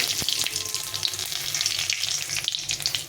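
Dry red chilies, bay leaves and cumin fry in a hot kadai, giving a dense, even sizzle close by with a few light stirring clicks and spatters.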